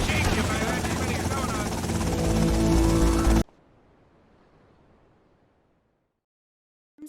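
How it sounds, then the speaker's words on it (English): Helicopter rotor chopping loudly in GTA Vice City, a steady dense roar for about three and a half seconds before cutting to near silence, with a brief knock at the very end. "Suspect not seen in a white helicopter."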